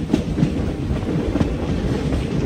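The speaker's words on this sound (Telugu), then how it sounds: "డీజిల్ లోకోమోటివ్ అయితే పుల్ చేస్తుంది అనమాట" An express train pulled by a diesel locomotive rolls along a track near Dudhsagar waterfall in Goa, heard from on board as a loud, continuous rumble with rhythmic wheel clacks.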